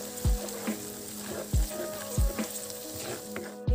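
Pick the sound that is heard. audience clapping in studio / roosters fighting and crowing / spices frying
spices frying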